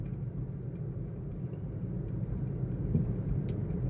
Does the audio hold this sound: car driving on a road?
yes